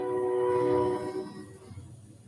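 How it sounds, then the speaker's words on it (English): A passing train sounds a loud, sustained horn that swells and then fades quickly as the train rolls by, with rumble underneath. "I don't know if you can hear the train going by."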